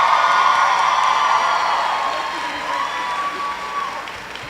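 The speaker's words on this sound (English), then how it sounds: "Students, would you cheer for the faculty who've taught you the last 4" Graduating students at a Trinity Washington University commencement cheering and applauding for their faculty, a dense sustained wash of clapping with whoops that slowly fades over several seconds.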